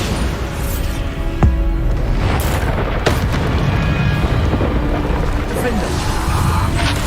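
A Bombarda blasting spell explosion in Hogwarts Legacy lands as a sharp boom, followed by further thumps over steady game noise, with a voice talking throughout.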